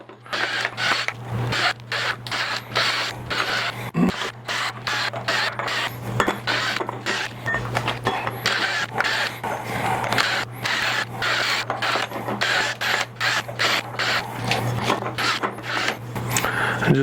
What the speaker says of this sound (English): I have a countersink for metal in here